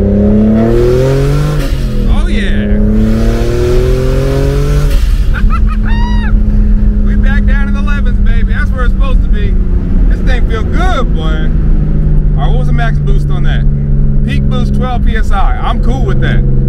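A turbocharged BMW E36 accelerates hard in second gear, its loud engine note climbing steadily in pitch with a brief drop at a shift before rising again, while someone talks over the steady roar.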